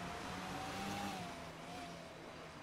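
A video game car engine hums steadily at moderate volume, its pitch rising slightly and then easing off, with no talking over it.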